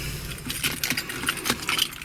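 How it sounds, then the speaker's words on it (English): Car keys for a fourth-generation V8 Formula Firebird jangle and clink in quick bursts as they are pulled out, close and crisp with no talk. "Get the keys out"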